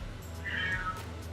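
A baby cat gives a single short, clear meow, close by over a steady low background hum.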